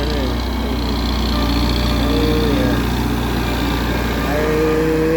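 A farm tractor works a field in Thailand to level the soil, its engine droning steadily with a low, constant hum, while people talk over it.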